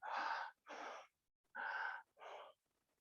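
A voice imitates breathing with four breathy, hissing exhalations in two pairs, each about half a second long, soft and close with short pauses between.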